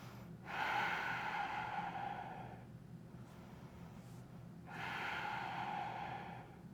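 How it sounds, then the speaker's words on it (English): Slow, audible breathing during a hip stretch: a long airy inhale or exhale, a pause, then another long breath, close and steady over a low background hum. "And breathing."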